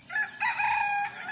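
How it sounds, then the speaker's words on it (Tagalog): A rooster crows in the countryside of Bohol, Philippines, with two drawn-out, fairly close calls one after the other over quiet rural background. "Tapos yung background mo puro tilaok ng manok."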